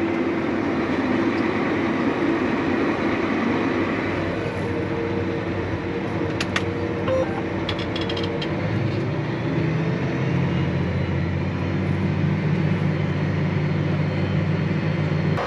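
A John Deere 8235R tractor pulls off while strip tilling with auto steer engaged, a loud steady engine rumble close by that rises in pitch as it gathers speed, with brief clanks partway through.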